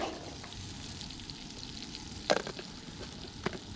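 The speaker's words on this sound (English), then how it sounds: "now it's time to add our onions and peppers" Onions and peppers fry in a pan at a truck campsite, a steady low crackling sizzle throughout with a couple of sharper clatters from stirring near the middle and end.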